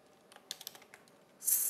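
A quick run of keystrokes on a computer keyboard, soft clicks close by, ending in a brief louder rustle.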